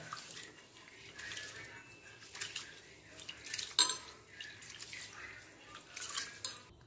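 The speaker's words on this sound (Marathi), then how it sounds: "सगळ्यात आधी आपण स्वच्छ तांदूळ धुवून घेऊया।" Rice is rinsed in water in a pot for khichdi, soft irregular sloshing and swishing with light clinks of the vessel, faint and close, no one talking.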